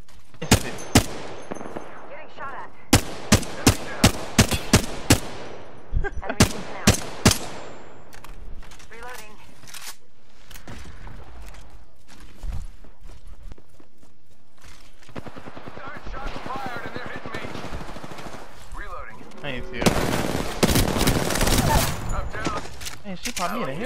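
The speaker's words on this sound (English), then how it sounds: "Getting shot at." Gunfire in the online shooter Apex Legends comes in sharp bursts of loud shots and rapid automatic volleys, with a later stretch of heavier firing. Players talk over the action throughout.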